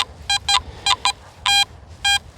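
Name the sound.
metal detector beeping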